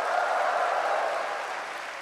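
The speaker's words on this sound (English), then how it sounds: "give the Lord an enthusiastic clap" A church congregation claps enthusiastically for the Lord, a dense wash of applause that holds steady and then gradually fades over a couple of seconds.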